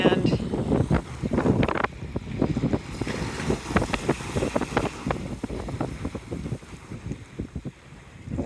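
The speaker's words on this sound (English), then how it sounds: "Watching the water flow out." Ocean water washes up over beach sand at Navarre Beach, a rushing, bubbling wash with gusty wind buffeting the microphone, loud and close, running throughout.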